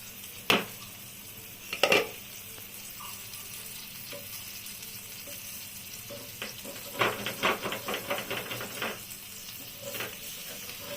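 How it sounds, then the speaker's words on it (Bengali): Pabda fish wrapped in bottle gourd leaves sizzles in a pan as the lid is lifted off with a couple of sharp metallic clanks, then utensils scrape and clatter against the pan over a continuous frying hiss, with no talking. "এখন আমি ঢাকনাটা তুলব।"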